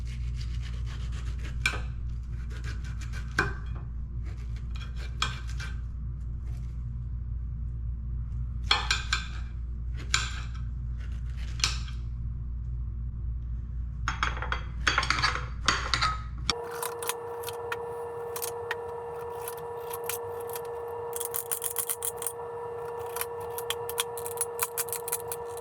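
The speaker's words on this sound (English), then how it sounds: "Cut the core out, set that aside, and then you're just going to tuck your fingers in and cut the skin off." A knife slicing the tough skin off a pineapple, with soft rubbing, scraping cuts repeated in short bursts, then a louder stretch of close scraping strokes.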